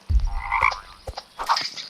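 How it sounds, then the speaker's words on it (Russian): Toads croak in the video game 99 Nights in the Forest, several close, raspy calls in two short bursts about a second apart with no talk over them. "подожди, я жаб убиваю"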